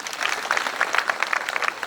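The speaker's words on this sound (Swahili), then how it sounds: "Tumpigie makofi" Applause from students at a mixed secondary school gathering in Ahero, Kisumu County: brisk, dense clapping from a crowd, steady and fairly loud throughout with no voices over it.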